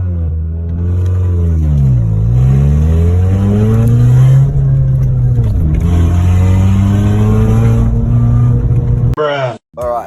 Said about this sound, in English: This muffler has a massive crack behind the cat converter